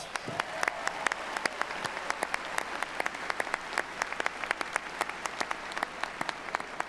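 Steady applause from an audience at a university commencement ceremony, many hands clapping in a dense, continuous patter that holds evenly throughout without any voices rising above it.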